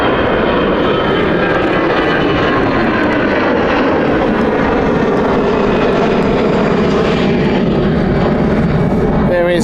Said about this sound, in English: As the 757 of United has taxied as well, so that's going out soon